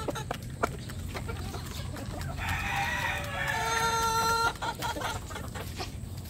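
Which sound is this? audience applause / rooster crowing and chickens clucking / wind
rooster crowing and chickens clucking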